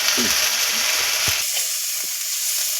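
Turmeric, cumin and coriander powder masala sautéing in a pan: a close, steady sizzle with soft stirring knocks, busier at first and thinning out toward the end.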